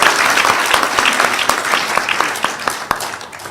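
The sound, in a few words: audience applause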